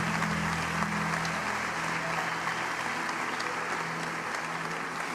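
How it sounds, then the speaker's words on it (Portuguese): A church congregation applauds together, a continuous broad clatter of many clapping hands with a low hum beneath, held steadily throughout. "Quantos podem dar um aplauso ao Senhor?"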